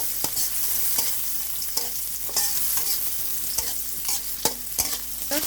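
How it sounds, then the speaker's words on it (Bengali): Chopped green chillies fry with fish roe in a pan, giving a loud continuous sizzle with repeated sharp clicks and scrapes from stirring, close up and with no voices. "এখন কাঁচামরিচ কুচি দিয়ে দিলাম, এভাবে একটু ভেজে নেব।"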